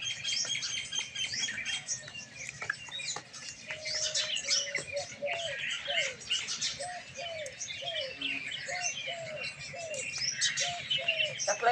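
Small birds chirp and twitter busily while being fed in the morning, with one bird repeating a short sweet call over a dense, continuous background of high tweets.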